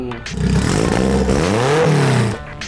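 A modified low MPV's engine revs hard through a loud, raspy front-exiting screamer pipe exhaust, pitch climbing and falling over a few seconds before cutting off.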